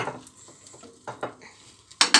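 A spoon stirs qeema karela in a metal pot, giving a few scattered scrapes and clinks with a sharp metallic clatter near the end.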